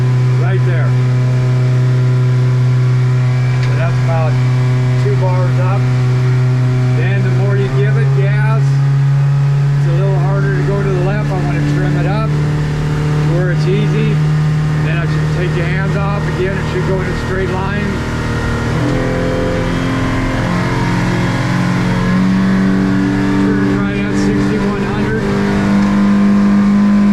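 A 2017 Hewescraft 160 Sportsman boat runs on water under a Yamaha F70 outboard, its loud steady engine drone slowly rising in pitch as it speeds up, with water rush and wind over it.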